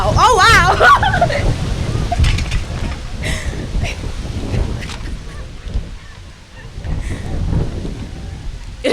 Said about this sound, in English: It is a very windy morning.